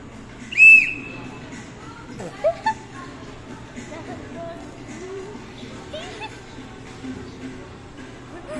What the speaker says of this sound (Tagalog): Biglaan pumito.